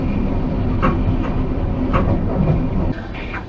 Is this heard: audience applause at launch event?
no